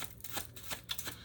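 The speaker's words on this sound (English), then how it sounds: "I'm going to say this while I shuffle these cards" A deck of playing cards being shuffled, heard as a quiet series of soft riffling bursts about every quarter second, close by, with no voices.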